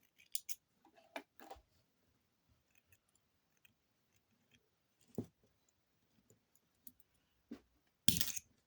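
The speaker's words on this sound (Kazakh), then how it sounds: "Өзінің арнайы қайшысымен кесіледі ау деймін." Special scissors snip thin bead-craft wire for a beaded flower earring, making a few sharp, quiet clicks spread out in near silence, the last snip the loudest.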